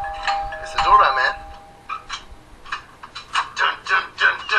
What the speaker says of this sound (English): it's the doorbell, man.